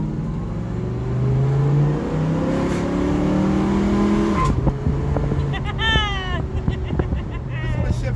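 A 1965 Mustang V8 fitted with a shift kit accelerates hard, its engine note climbing, then dropping sharply at a firm gearshift before rising again, loud and close from inside the car, with voices and a whine underneath.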